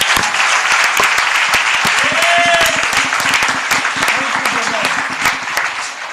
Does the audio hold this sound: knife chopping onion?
no